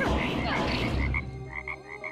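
A frog croaking in the video game Lost Castle, a few short, loud, repeated croaks in quick succession over game background sound.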